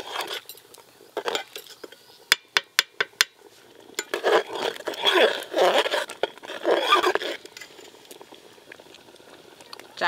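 Rice khichuri is stirred in a pot, making scraping, clinking utensil sounds and soft bubbling. Sharp taps come first, then a busier stretch of stirring, close and moderately loud, while a person talks quietly now and then.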